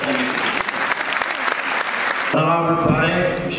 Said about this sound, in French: Je vous invite à applaudir M. Amadou Wade